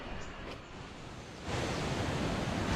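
Water flows steadily at Khlong Phai Bu waterfall in a broadband rushing wash that swells louder about halfway through and then holds, with no voices.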